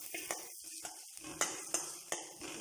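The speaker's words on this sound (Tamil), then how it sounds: "ஆனியன் வந்து லைட்டாக ஃப்ரை ஆனால் போதும்" Onions and garlic lightly sautéing in a pan for palak soup, a low sizzle with regular sharp taps and scrapes of a spoon stirring against the pan.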